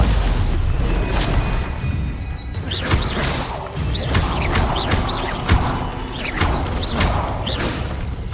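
Stupefy spell impacts in Hogwarts Legacy, a run of loud, sharp magical blasts and crashes at a fast irregular rhythm over dense battle noise and swooshing effects.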